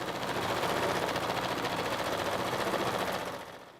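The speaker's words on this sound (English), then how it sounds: "I'm going to take it to the machine and I'm going to stitch our first step for our freestanding element" An embroidery machine sews a placement stitch for a freestanding element, a fast continuous rattling buzz heard up close and alone, steady for several seconds before tapering off at the end.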